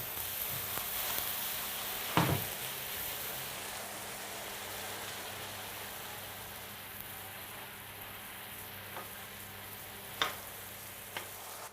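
Stock poured into a sautéed sauce base for Jägerschnitzel or creamy veal schnitzel, a steady quiet sizzle and hiss with a few sharp clinks of a utensil against the pan.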